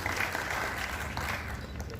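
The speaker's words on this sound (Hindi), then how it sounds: "इनके लिए जोरदार तालियां।" Audience applause for young volunteers honoured as COVID-19 fighters at an appreciation ceremony in Aurangabad, a brief steady patter of clapping from the crowd, fairly distant and soft.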